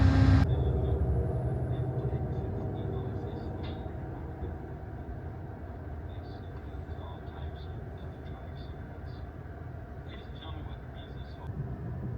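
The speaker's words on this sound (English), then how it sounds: "Traveling next to this freight train. They're moving at just about the same speed we are." A freight train rolling alongside a moving passenger train in the desert near Tucson, heard from inside the passenger train as a continuous low rumble and rattle under faint intermittent squeals, with people talking nearby.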